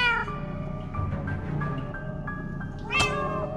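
A cat meowing in Minecraft: Story Mode, several close, loud, drawn-out meows in quick succession, ending in a sharper, rising yowl.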